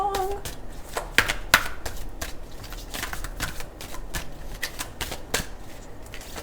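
Psychic Tarot cards being pulled and shuffled from a deck make quick papery flicks, riffles and sharp slaps in an uneven run, close up, with no talking.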